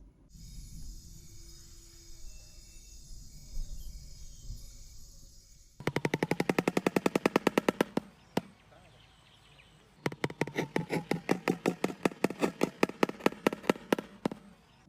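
A shoebill clatters its bill: rapid wooden clattering in two long bursts of fast, evenly spaced knocks, loud and dry like a machine gun, over faint background noise.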